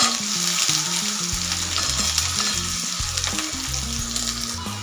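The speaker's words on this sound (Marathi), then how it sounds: "मोठ्या आकाराचा एक बारीक कांदा चिरलेला आहे, हा आपल्याला तेलामध्ये ना परतून घ्यायचा आहे त्याचा कच्चेपणा जाईपर्यंत।" Finely chopped large onion sautéing in hot oil for besan bhurji, a loud, constant close sizzle with occasional stirring scrapes over soft background music.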